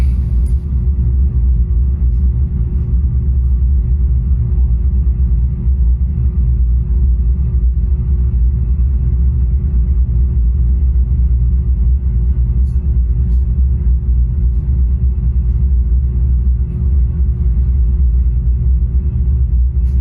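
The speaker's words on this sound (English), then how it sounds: "This is a tow truck driver being instructed by Thunderbolt to back up" A tow truck backs up through a parking lot, its engine a steady, loud low rumble with a faint constant hum on top, droning on unbroken and close by.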